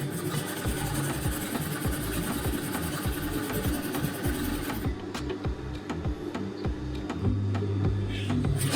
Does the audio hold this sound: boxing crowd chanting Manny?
no